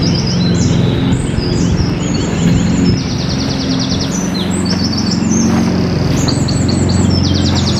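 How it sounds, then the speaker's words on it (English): Several birds, including robins, chirp and tweet busily overhead in a graveyard, quick repeated calls layered over a low background rumble. "Nice to hear the birds."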